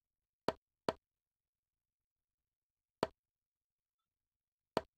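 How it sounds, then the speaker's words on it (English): Four isolated conga hits from a music production sample, short and dry with quick decay: two in close succession, a long gap, then two more spaced apart, each alone with no talk. "So the first conga sounded like this."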